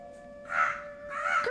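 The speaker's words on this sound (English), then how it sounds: "You hear the wind blow by your ears. The sounds of the birds," Two harsh crow caws from birds in the video game GTA, spaced about a second apart and clear against a quiet background.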